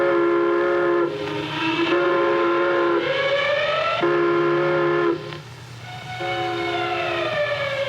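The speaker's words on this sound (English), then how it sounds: "dread sound of the prison whistle announcing a break" A loud, sustained multi-tone whistle blares in long repeated blasts, wavering slightly in pitch, with brief gaps between each blast.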